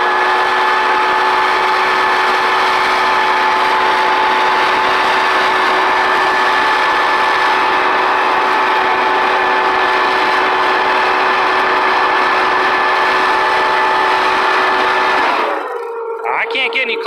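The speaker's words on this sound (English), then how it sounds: "Every time you hit that with the leaf blower, more wood jumps off it." A leaf blower roars steadily at close range, driving air onto a burning green tree stump, a loud continuous engine whine with tonal bands, cutting out abruptly near the end.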